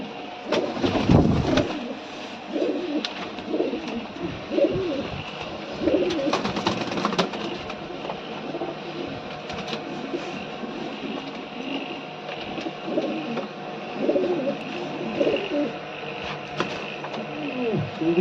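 Pigeons, including a large old one, coo repeatedly in a steady, low throaty rhythm, close by, against a constant background hum and occasional rustling.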